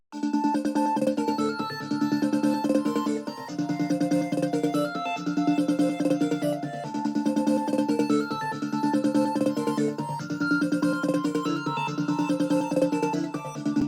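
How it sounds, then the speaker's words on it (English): High, bright synth lead, a Reese bass pitched up to the fifth octave, playing a repeating melodic riff over a steady electronic backing, looping continuously with no talking. "I use my Reese 1 bass, pitched up to the 5th octave so it sounds like a lead"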